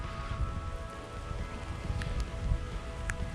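Steady patter of rain falling on leaves and ground along a forest trail in the Great Smoky Mountains, dense and continuous, with a few brighter drips standing out.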